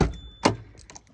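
Door of a 1982 Ford Cortina MK5 1.6 Auto Crusader being opened: a sharp mechanical click and thunk of the latch releasing, followed by quieter rattling clicks, close and without speech.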